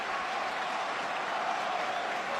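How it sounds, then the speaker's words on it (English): Steady applause from a stadium crowd at a Liverpool versus Arsenal football match, a dense continuous wash of clapping throughout with no individual voices standing out. "Mikel Arteta's applauding"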